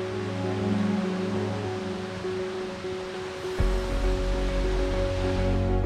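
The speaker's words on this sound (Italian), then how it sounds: "Ora attraversiamo questo piccolo ponticello in legno dal quale si può ammirare una vigorosa cascata." A vigorous waterfall in a park rushes steadily beneath a small wooden footbridge, a dense, continuous roar of falling water that thickens partway through as the sound moves closer.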